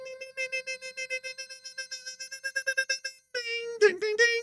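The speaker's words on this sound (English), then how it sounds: "y'all get that Morse code message correct" Morse code beeps, a fast train of short electronic tones in steady rhythm that pauses briefly, then gives way to a longer held tone broken by a few quick warbles, clear and up front with no talking.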